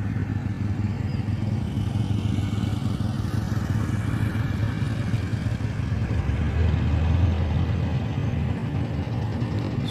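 A dump truck crosses the three-legged Ciambar Kolot bridge at the Bocimi toll road construction site, giving a continuous, fairly loud engine rumble with rattling clatter and no pauses.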